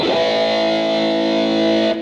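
A single heavily distorted electric guitar chord, volume knob fully up, rings out loud and sustained, buzzing thickly for about two seconds before cutting off abruptly.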